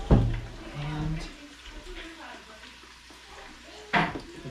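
Onion and green pepper sautéing in butter or olive oil for a goulash, with a soft sizzle and stirring, a brief clatter near the start and another at the end, under a voice.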